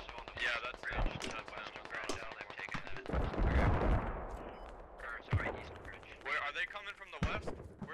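Gunfire from the military shooter game Squad, insurgents against Russian forces, crackles in repeated bursts at mid distance, mixed under steady radio-style chatter and talking from players throughout.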